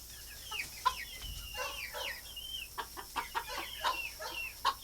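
Hens cluck softly and repeatedly nearby, a busy overlapping chatter of short calls with occasional sharper squawks.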